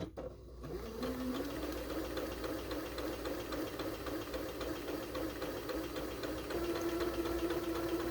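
A sewing machine stitches a quarter inch beside a marked line on a half-square-triangle quilt block, a fast continuous mechanical whirr that holds steady throughout after a brief start-up.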